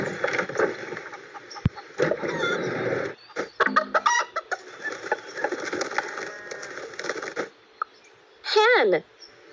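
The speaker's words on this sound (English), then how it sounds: "Hen." Hens cluck and cackle busily in a farmyard setting, a dense run of choppy calls with a brief rising squawk near the end, close and steady.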